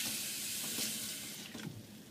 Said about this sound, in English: I'm going to make some ice, fill it up with some water.